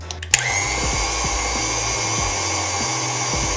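An electric mixer whisks pistachio buttercream flavoured with vanilla bean paste, giving a steady, loud, continuous motor whine with a sharp start after a brief clatter.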